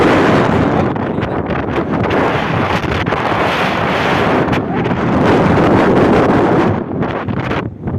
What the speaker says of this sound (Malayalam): വെയിലാണേലും നല്ല കാറ്റുണ്ട്.